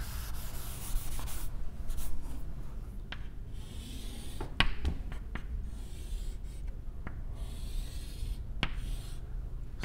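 Marker or chalk rubbing across a board during a physics lecture, a steady scratchy scraping with a few sharper taps and strokes, close and fairly faint.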